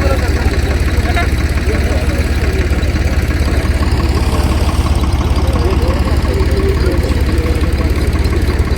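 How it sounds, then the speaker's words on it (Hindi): Two tractor engines idling close by in a rural field setting, a steady continuous low rumble with knocking vibration throughout, overlapped by people talking loudly. "बंद कर इन दोनों ट्रैक्टर"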